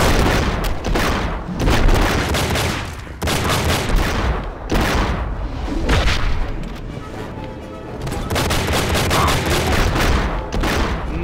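Heavy gunfire from a gun in the Enter The Matrix game erupts in loud, repeated bursts and booming shots with brief pauses between volleys, close and dominant throughout.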